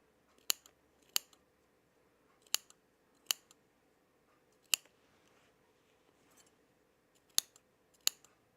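Sewing scissors trim a messy, uneven fabric edge on a Style Arc Teddy top, giving eight sharp, close snips spaced irregularly with quiet pauses between them and no talking.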